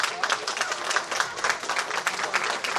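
An audience at a local community event applauds steadily, a dense, even burst of many hands clapping that fills the whole stretch without a break.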